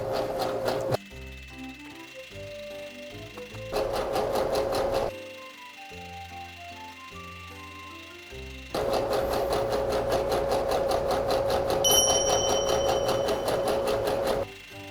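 A sewing machine stitches fabric for a homemade mask in rapid mechanical bursts, starting and stopping several times with quieter gaps between runs.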